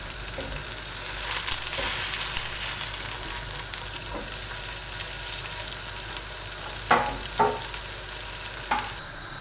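A veggie burger sizzles steadily in a hot pan, a continuous crackling fry with a few sharper pops and spatters, close and moderately loud with no talking.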